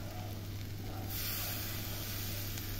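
Vegetables for a soup sizzle steadily in a pan while being stirred, a continuous close frying hiss that grows a little brighter partway through, with a low hum underneath and no talking.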